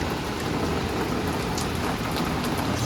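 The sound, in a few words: heavy rain falling in Pune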